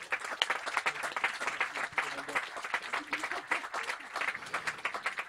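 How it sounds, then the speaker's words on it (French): Audience applause for prize winners on stage at the Genopole competition, uneven clapping of moderate loudness with some voices murmuring underneath. "on peut encore vous applaudir"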